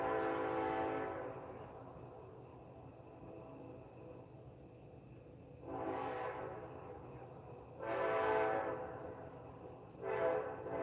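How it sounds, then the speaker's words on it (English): A train passes with its horn sounding in four blasts, a long one at the start and then three spaced honks, over a continuous low rumble of rolling rail cars, with no talking. "there's the train"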